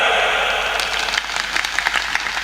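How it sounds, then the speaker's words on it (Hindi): Audience at a live Rajasthani comedy show clapping together in response to the performer's request, a dense, steady patter of many hands close by that carries on for a couple of seconds without any speech. "एक बार 5 ताली बजाओ देगा"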